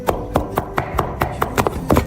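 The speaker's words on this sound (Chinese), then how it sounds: "大蒜拍碎剁成末" A knife crushing and mincing garlic on a cutting board, a steady run of about a dozen sharp, close chopping thuds at a brisk, slightly uneven rhythm, with no talking.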